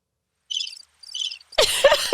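A cricket chirp sound effect fires from a sound pad in two short bursts of rapid trills, then cuts off as people start talking loudly nearby.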